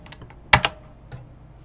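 A short burst of computer keyboard typing, a few quiet clicks followed by two louder close keystrokes and one last soft tap, with no voices.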